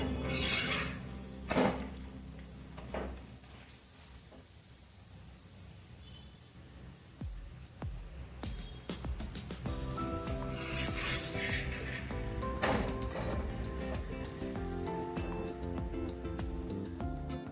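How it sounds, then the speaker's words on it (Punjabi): Mooli paratha cooking in ghee on a hot griddle, giving a steady soft sizzle with occasional metallic clinks and scrapes of a spatula against the pan, no talking. "ਦੋਨਾਂ ਸਾਈਡਾਂ ਦੇ ਉੱਪਰ ਘਿਓ ਲਾ ਦਾਂਗੇ ਆਪਾਂ ਪਰੌਂਠੇ ਨੂੰ ਆਪਾਂ ਚੰਗੀ ਤਰ੍ਹਾਂ ਹੁਣ ਰੋਲ ਕੇ ਪਕਾਵਾਂਗੇ"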